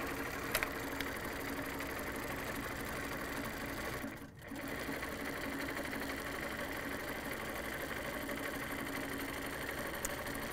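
An HQ Pro-Stitcher Premium longarm quilting machine stitches steadily with a fast, even mechanical hum, pausing briefly midway before resuming at the same close, constant level.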